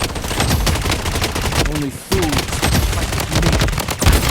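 Rapid, sustained gunfire from the mobile shooter game Blood Strike, with dense automatic bursts that run almost without a break, one short gap near the middle, and excited talk running underneath.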